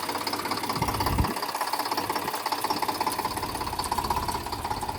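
A tractor engine runs steadily nearby on a family farm, a continuous knocking idle rumble with a brief louder thump near the start, and no voices.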